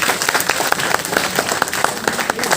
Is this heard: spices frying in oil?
no